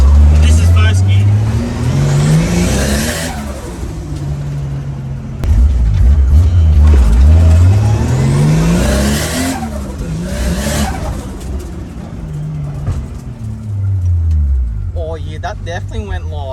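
Turbocharged Nissan Skyline R31 pulling hard in first gear, engine note climbing repeatedly through revs with gear-change dips, loud and close from inside the car, with people talking over it.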